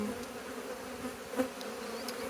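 Honeybees buzzing inside a hive in April while drawing out wax foundation in a newly added super, a dense steady drone with a few sharper nearby buzzes, moderately quiet and with no talk.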